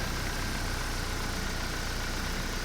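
A Saab 9-3 engine idling quietly after a coolant tank change, a steady, even hum close to the car with a broad hiss over it and no talk.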